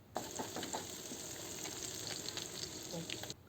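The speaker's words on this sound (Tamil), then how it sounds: "இது ரெண்டுத்தையும் நல்லா வதக்கிக்கிட்டு இருக்கலாம் ஓரளவு வதங்கின உடனே இது கூட பச்சை மிளகாவையும் போட்டுக்கலாம்" Vegetables and green chillies sauté in a pan for a spring roll filling, giving a close, continuous sizzle with light stirring scrapes throughout.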